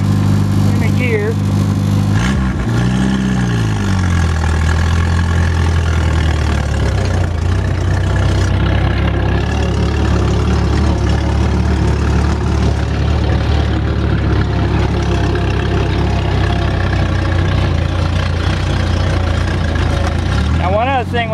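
A Willys jeep with a trencher attached runs steadily close by, its low engine drone loud and constant throughout, with a brief pitch swoop near the start.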